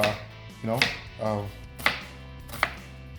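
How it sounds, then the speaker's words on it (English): Kitchen knife slicing onions on a cutting board for a coriander chicken curry, with a few sharp, close knocks of the blade on the board between softer slicing strokes, no talking. "I'm gonna finish slicing these up"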